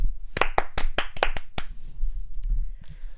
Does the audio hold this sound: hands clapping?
yes